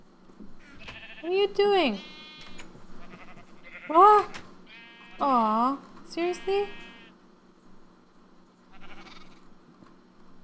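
Several sheep bleats from the video game Minecraft, wavering cries in quick succession over a quiet background, with a person talking between them.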